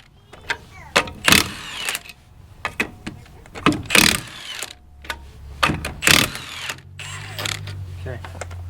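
Bolts being loosened from a trailer hub with hand tools, a series of sharp metallic ratchet clicks and clanks in irregular bursts with quiet gaps between them, close by, with some talk.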